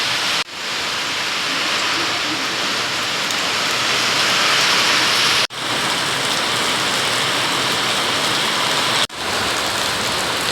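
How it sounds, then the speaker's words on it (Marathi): Heavy first rain of the season pouring down in a Konkan village, a loud dense continuous roar of rainfall, briefly interrupted twice by sharp cuts. "पाऊस जोरात आला."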